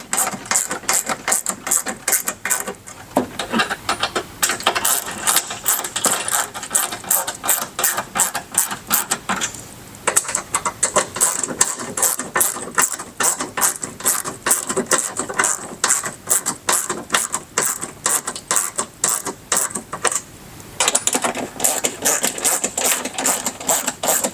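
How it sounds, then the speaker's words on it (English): A Phillips head screwdriver snugs down the screws on ROKBLOKZ Rally mud flaps being fitted to a 2024+ Toyota Tacoma, with rapid, steady mechanical clicking running close and loud for the whole stretch, broken by a few brief pauses. "we can grab our Phillips head screwdriver and start tightening these down"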